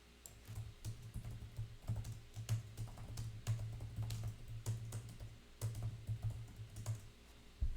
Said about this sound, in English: I didn't mean to give a typing lesson